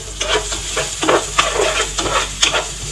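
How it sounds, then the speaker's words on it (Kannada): Chicken lightly cooking in a pan for biryani, with a steady sizzle and repeated stirring scrapes every half second or so, close up with no talking. "ಮಾಡಿ ಇಟ್ಕೊಂಡಿರುವಂತಹ ಚಿಕನ್ ನಾನು ಇವಾಗ ಇಲ್ಲಿ ಲೈಟ್ ಆಗಿ ಬೇಯಿಸ್ಕೊತೀನಿ"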